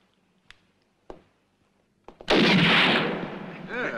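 Gunshots in a western-movie sharpshooting contest: a few sharp, isolated cracks spaced apart, then a loud sustained blast of gunfire and ringing rumble that fills the rest of the moment.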